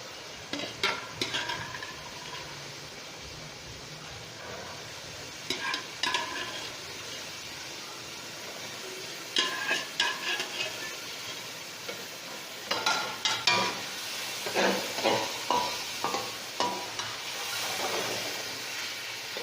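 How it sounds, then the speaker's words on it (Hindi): Boiled white chickpeas are stirred through masala in a pan, a soft sizzle running under bursts of spoon scraping and stirring that come in short clusters, louder and quicker toward the end. "चने हम भूनेंगे"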